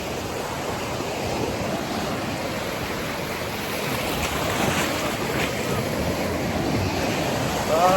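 Waves wash steadily onto a Spanish beach in a continuous broadband surge, with wind buffeting the microphone and no clear talk.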